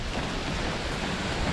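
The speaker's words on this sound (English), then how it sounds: "They got the waterfall." A waterfall gives a continuous broadband rushing roar, steady and even throughout with no pauses, and no voices over it.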